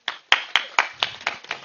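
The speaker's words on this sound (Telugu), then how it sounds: "క్లాప్స్ కొట్టండి" Audience members at a public gathering clap in a sparse run of about seven distinct, evenly spaced hand claps, crisp and fairly close.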